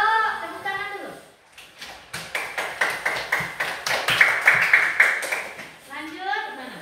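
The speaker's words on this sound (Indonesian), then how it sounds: "tepuk tangan dulu" Classroom applause as a class claps together after a student's dance, a burst of rapid clapping lasting several seconds with children's voices before and after.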